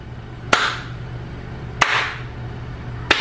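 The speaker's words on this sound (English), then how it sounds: "You don't sound cool when you're clapping by yourself" One person claps hands alone, giving three sharp, isolated claps spaced about a second apart over a steady low background hum.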